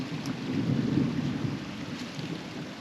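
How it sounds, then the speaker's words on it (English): Low, rolling thunder rumbles continuously through a humid night beside a river, a steady broad roar swelling around the middle and easing off, with light rain texture and no talking. "a bit of thunder happening at the moment"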